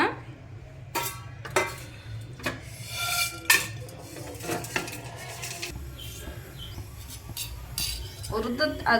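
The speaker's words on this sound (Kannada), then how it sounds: "ಇಷ್ಟಾದ್ಮೇಲೆ ಒಂದು ಪಾತ್ರೆ ತೆಗಿಯೋಣ ಇದನ್ನ." Cooking pots and metal utensils clinking and clattering in a home kitchen, irregular close knocks and scrapes spread across the scene, with a voice speaking softly at times.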